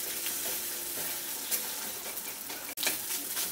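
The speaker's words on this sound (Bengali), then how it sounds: "ডিমটাকে ভালো করে একটু হালকা ব্রাউন করে ভেজে নেব।" An egg fries in a pan with a steady, close hiss of sizzling oil, broken by a few brief scraping stirs and a short sharp clunk near the end.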